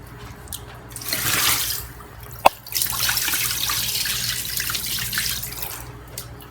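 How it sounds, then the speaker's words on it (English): Salty soaking water drains from a ham into a sink in a steady rushing pour, with a single sharp clink partway through and no talking. "So I'm just gonna drain it."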